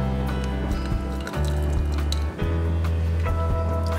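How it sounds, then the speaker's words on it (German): A small splash of hot water pours into a Vietnamese coffee filter on top of the grounds, a soft close-up trickle and gurgle over a low steady hum, with no talking. "gießt man hier oben das Wasser rein, aber zunächst nur einen ganz kleinen Schuss sozusagen, damit der Kaffee schon mal aufgewärmt wird"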